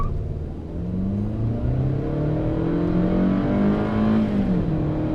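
A 2018 Hyundai Sonata Limited with a 2.4L four-cylinder engine accelerates steadily, its engine note rising and shifting pitch in a continuous drone heard from inside the car, with no talking.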